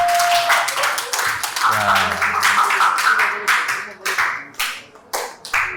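A class claps hands in a lively burst that breaks into scattered, separate claps as it winds down, with a brief voice over the start.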